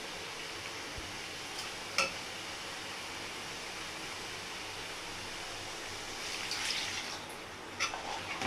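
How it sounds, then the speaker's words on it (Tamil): Water is poured into a pot of prawn curry with drumsticks and potatoes, a soft steady rushing hiss that swells briefly near the end, with a few faint clinks. "கொஞ்சமாக தண்ணி, ஏன்னா முருங்கைக்காவும் அப்புறம் வந்து உருளைக்கிழங்கு வேகணும், அதனால் கொஞ்சம் தண்ணி ஊற்றிக்கலாம்."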